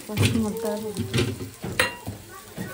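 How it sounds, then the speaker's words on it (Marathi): Onions sizzle and splutter in a hot pan, with bursts of stirring and the scrape of utensils against metal, close and moderately loud. "आता कांदे उडा लागले."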